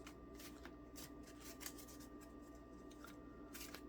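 A deck of cards being shuffled, a soft riffling and rubbing that repeats in short bursts over quiet background hiss, close and faint.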